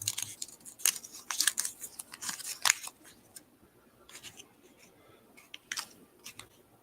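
Soft papery rustling and crinkling in quick, irregular bursts, close by, as paper slips for a prize draw are shuffled between hands; no voices.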